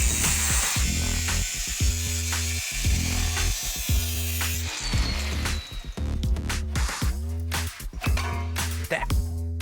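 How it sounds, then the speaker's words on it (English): A power tool cuts out the muffler of a Crown Victoria police cruiser in a junkyard, running in loud close bursts that start and stop repeatedly, with a brief voice partway through. "cut the back out of this, get the muffler out of here"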